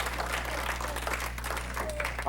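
Guests at a family 95th birthday party applaud with a short burst of steady clapping, while a voice speaks over the noise.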